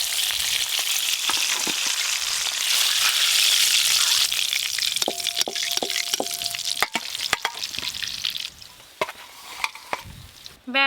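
KFC-style chicken pieces fry in hot oil, a loud steady sizzle that gradually thins out, with scattered taps and clinks of a utensil and a short beeping tone partway through.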